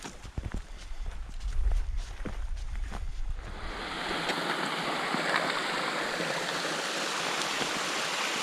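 Spring water flows out of rock along the Great Divide Trail between Waterton and Coleman, a steady loud rushing that swells in after a few seconds of rustling and footsteps and then continues unbroken.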